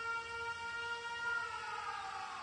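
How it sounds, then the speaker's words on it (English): An air raid siren wails in the video game 13 Sentinels, several steady electronic tones rising slowly in pitch and holding loud and even, with no talk over it. "The sirens."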